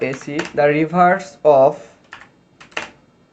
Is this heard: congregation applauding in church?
no